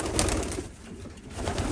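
Pigeons in the spare cocks section of a pigeon loft, giving soft, low cooing calls that rise and fall throughout, heard close up over a steady background hum with no talking.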